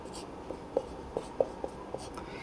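Pen or chalk strokes while working a Class 12 maths problem on triangle area, a handful of short, separate scratchy taps spaced irregularly over a quiet background, no talking.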